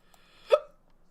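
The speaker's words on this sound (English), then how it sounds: "I have hiccups." A single short, sharp hiccup, close and clear in an otherwise quiet moment.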